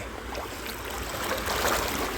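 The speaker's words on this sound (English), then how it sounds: "there's a mini waterfall under there, look" A small waterfall splashes in a stream, a steady close rush and trickle of water that runs on alone and grows slightly louder toward the end.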